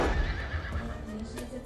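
An Arabian horse at a national Arabian horse festival in Qatar neighs loudly and close, a whinny with some hoof clatter and a busy background.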